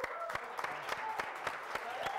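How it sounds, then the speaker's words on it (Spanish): A studio audience at a Chilean television program applauds steadily for an arriving guest, a dense continuous clapping with no voices standing out. "Tenemos otro invitado, démosle un fuerte aplauso"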